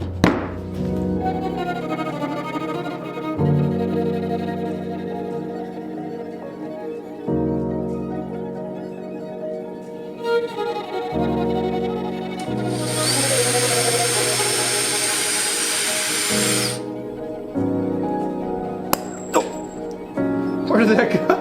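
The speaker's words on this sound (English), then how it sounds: "So we basically just need to cut 2 slices off, that way we can make our 2 scales. So let's do that using the bandsaw." A bandsaw slices Australian ring gidgee hardwood in several bursts. The motor whirs up and then grinds loudly as the blade bites, with one long, harsh cut in the middle and clunks between passes.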